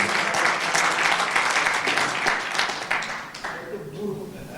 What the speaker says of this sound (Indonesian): Wah luar biasa, kita berikan aplaus ya